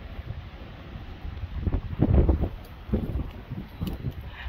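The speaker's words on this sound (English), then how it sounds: "wind." Wind gusts buffet the microphone outdoors beside a horse trailer, a low rumbling roar that swells in the middle and then eases.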